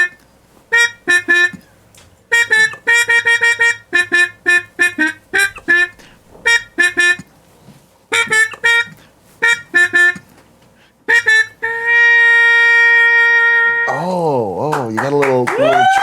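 A trumpet played jazz-style with a Harmon mute gives bursts of short, nasal staccato notes, then a long held tone and a bending, wavering trill-like phrase at the end.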